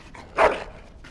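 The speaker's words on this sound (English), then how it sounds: "Bloody dog." A dog in the fantasy game Dragon Age: Origins gives one short, sharp bark near the middle, close and fairly loud, with quiet background between.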